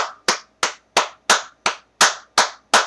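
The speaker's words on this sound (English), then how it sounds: "I clap." A single pair of hands claps nine times in an even, steady rhythm, each clap sharp, close and loud, with silence in between.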